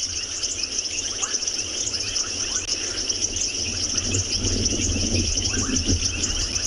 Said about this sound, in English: you do get this other element of the experience, the frogs and the insects